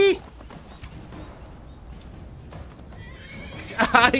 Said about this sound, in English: I like how the horse joins in.